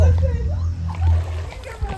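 Water splashes and sloshes close by in a pool while children and adults talk and call out.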